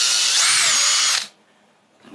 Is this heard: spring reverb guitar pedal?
no